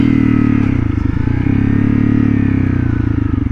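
A motorcycle idles steadily up close with a low, throbbing engine rumble as the rider comes to a stop, the engine note holding even with only slight fluctuation throughout.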